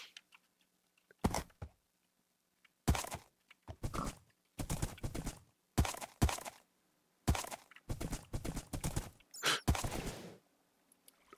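Horse hooves clip-clopping over rough, treacherous terrain in a video game, heard as irregular clusters of sharp thuds separated by short silences, close and fairly quiet with no talk.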